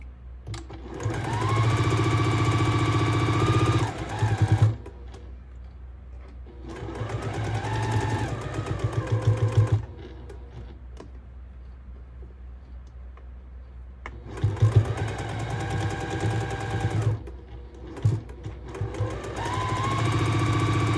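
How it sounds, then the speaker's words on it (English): A sewing machine stitches a quarter-inch seam through kite foundation paper in three loud, rapid whirring runs, separated by quiet pauses with faint handling sounds. "And then we're gonna start and we're gonna stitch 1/4 inch."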